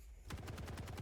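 Rapid gunfire from a video game weapon shot unzoomed, about eight quick evenly spaced shots in under a second, loud and close, with no talk.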